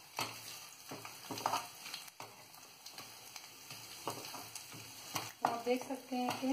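Cinnamon sticks frying in a pan, a quiet steady sizzle broken by repeated scraping stir strokes, while a person talks over it at moderate distance.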